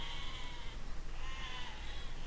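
Sheep in the Besiege video game bleat in two drawn-out calls over a dense, loud wash of game noise, with no one speaking.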